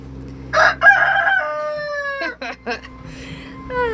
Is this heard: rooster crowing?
yes